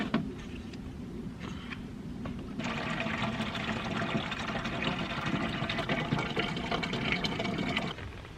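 Water drains steadily out of a garden wildlife pond on a UK allotment, starting as a faint trickle and then swelling into a continuous close rush of flowing water for several seconds before stopping abruptly.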